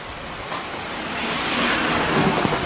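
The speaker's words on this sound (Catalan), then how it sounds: "Plou molt! No pararà de ploure, Joan!" Heavy rain pouring outdoors, a dense broad hiss that swells slightly toward the end, heard alone with no speech.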